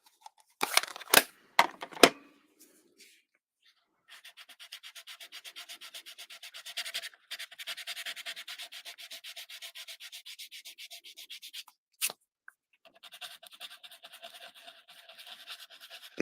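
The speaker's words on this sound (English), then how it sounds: "It's a sand eraser, so it does remove it, but it takes a little bit of work." A sand eraser rubs back and forth on paper in a painted Christmas card scene, producing rapid, even scratchy strokes in two long sustained runs, preceded by a few sharp taps and separated by a brief pause, close and alone.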